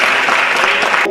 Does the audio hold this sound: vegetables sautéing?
no